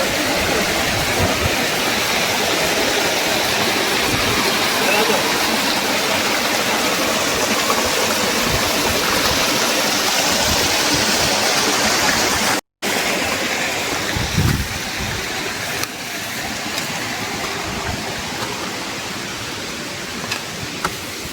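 Kailasa Kona waterfall in Andhra Pradesh pours in a constant, loud, full-bodied roar of falling water, unbroken except for a brief dropout midway, with no voices.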